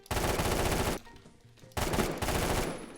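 Colt SMG fire in the video game Phantom Forces: two loud sustained bursts of rapid automatic shots separated by a brief gap of near silence.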